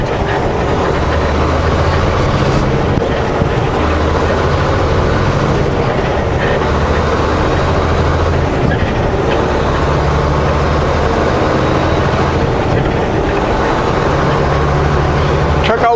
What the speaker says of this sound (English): Truck always shifts a little funny